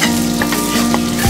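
Ginger and garlic stir-frying in a hot wok, a loud dense sizzle with quick stirring scrapes, very close and continuous with no talking.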